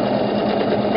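A sewing machine runs steadily at close range, its motor humming and needle clattering without pause while back stitching the top seam of a tote bag.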